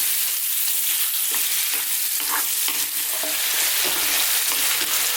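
Hefty lamb chunks for an Indian dry mutton fry sizzle steadily in a pan, with scraping stirring sounds throughout, close and continuous.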